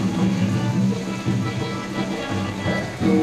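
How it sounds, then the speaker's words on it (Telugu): Heavy rain pours steadily at a temple in Mulbagal, a dense, continuous hiss and patter close by that stays loud and even throughout, with no voices. "అంత జోరుగా అయితే వాన వస్తూనే ఉండింది."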